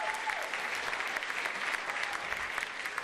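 A labor convention audience claps briefly in a large hall, a short burst of many hands at moderate loudness with no voices over it.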